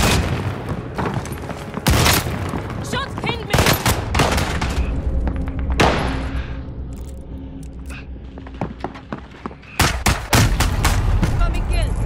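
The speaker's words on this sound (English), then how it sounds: "I'm taking fire!" Gunfire in Call of Duty Modern Warfare, loud bursts of rapid automatic fire and sharp single shots arriving in clusters, with a quieter stretch of distant popping in the middle and game voices heard briefly.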